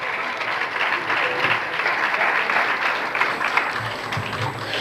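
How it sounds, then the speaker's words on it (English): At a youth symposium, an audience claps for a college topper with a dense, continuous round of applause that stays fairly even, with a few louder claps near the close. "Give him big round of applause"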